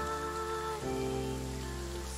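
Steady rain falls in the VR game Nostos, an even close hiss over a low constant hum, with no voices.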